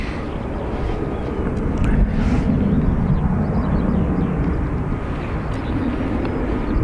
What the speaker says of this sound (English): Takeoff. Sorry, this is EI266 off to Birmingham